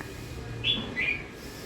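Two brief, bright bird chirps sound in quick succession against a soft, constant background hiss.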